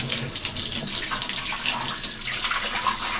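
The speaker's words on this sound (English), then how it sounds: "So I'm going to put some water in the tank." Water pours steadily into a boat's tank, making a continuous hissing, splashing rush like a running tap, close and fairly loud with no talk.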